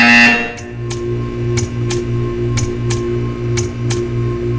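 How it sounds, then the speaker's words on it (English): Repeated buzzer in the video game Portal 2: a steady low electronic drone pulsing in regular short bursts, with sharp ticks recurring roughly every half second over a humming background, no talk. "When you hear the buzzer, stare at the art."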